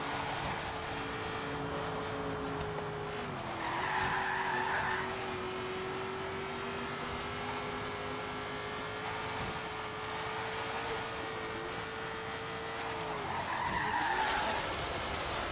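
A Ford Falcon XE in Forza Horizon 3 squeals its tires through two long, sustained skids, each with a wavering pitch over a steady engine drone and no voices.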